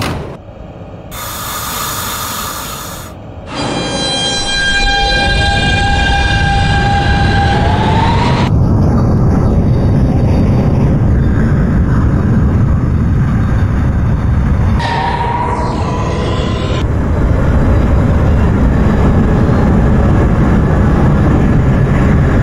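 A simulated NYC subway R160B F train runs underground, with rising motor whines and steady rumbling, punctuated by brief chimes and tones, with no talk.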